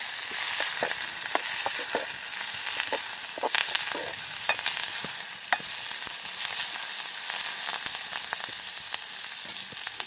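Curry leaves with pounded ginger and garlic fry in a pan for a village seafood feast, a loud, steady close sizzle punctuated by the scrape and clink of stirring.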